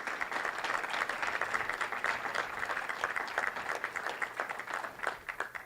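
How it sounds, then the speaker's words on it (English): Audience applause for a college basketball team at a Morehead State media day, steady dense clapping from a sizeable crowd sustained for several seconds before thinning slightly at the end. "give these guys a round of applause"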